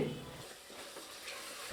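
Onions, mint leaves and curd are stirred and sautéed in a pan for Dindigul-style vegetable dum biryani, giving a quiet, steady sizzle with soft scraping of the spoon and no talking.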